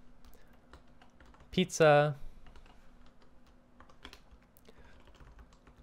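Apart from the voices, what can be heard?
typing on a computer keyboard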